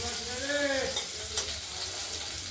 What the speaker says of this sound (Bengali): আর আলুগুলো আমরা ভেজে নেবো একটু হালকা করে ভেজে নেবো